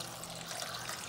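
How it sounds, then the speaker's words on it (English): Cold water pours steadily into a pot of diced potatoes, a continuous close splashing rush with no talk over it. "We're going to cover them in cold water."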